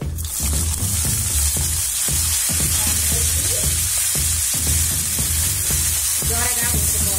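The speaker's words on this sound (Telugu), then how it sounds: "ఎర్రగడ్డలు బాగా దోరగా వేగిన తర్వాత" Finely sliced onion fries in hot oil with mustard seeds, cumin and lentils for a potato carrot curry, giving a loud, steady sizzle. Rhythmic stirring scrapes and clacks repeat through it.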